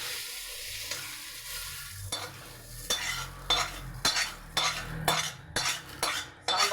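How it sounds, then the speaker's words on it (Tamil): Sautéed radish tipped from a pan into a pot of sambar, a soft sizzle giving way to a series of sharp metallic scrapes and knocks from a spoon stirring against the vessel, close and rhythmic. "இதை வதக்கின முள்ளங்கியை சாம்பாரில் கொட்ட போகிறேன்"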